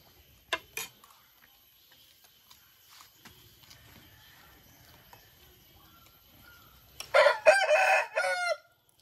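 A rooster crows loudly and close near the end on a family chicken farm, after scattered faint clucks, clinks and sparse farmyard noises.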